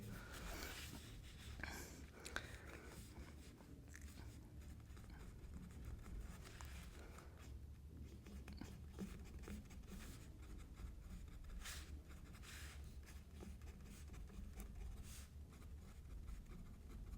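Pen scratching across paper while solving a polynomials maths exercise, a steady faint scribble with soft strokes continuing for the whole stretch, quiet and close.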